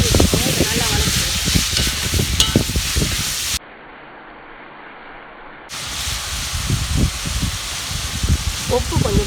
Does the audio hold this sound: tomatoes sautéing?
yes